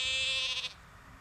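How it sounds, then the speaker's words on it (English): Sheep and young lambs bleating in a green field shortly after coming out of months in the stables, one clear, loud, drawn-out bleat with a wavering tone that fades into soft outdoor background noise. "The sheep are very giddy because they're only 3 days out now."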